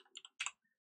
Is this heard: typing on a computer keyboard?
yes